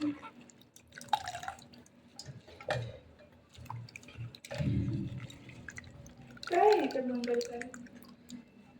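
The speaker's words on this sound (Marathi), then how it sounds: "कोबी धुवून आहे ना इथं चाळणीमध्ये ना सगळं पाणी म्हणजे निघून जाईल म्हणून चाळणीत टाकते" Water dripping and draining from washed cabbage in a kitchen colander: soft, scattered drips and splashes, quiet and close, with someone talking over them.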